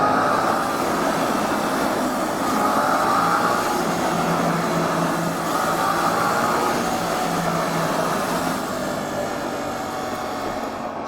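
Suzuki GSX-8S motorcycle running in third gear at about 6000 rpm at highway speed inside a tunnel, its exhaust a steady, continuous drone blended with loud wind and road roar throughout.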